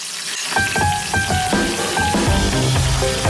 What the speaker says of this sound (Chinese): 烤得油亮金黄的猪五花，再用猪油来煎酸辣的泡菜